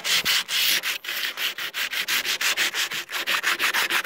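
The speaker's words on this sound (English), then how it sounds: "That's all I'm doing, is just sanding." Rapid rhythmic rubbing of sandpaper on a rust repair on a van, smoothing its edges, each stroke a harsh hiss, continuing steadily nearby with a brief hitch partway through.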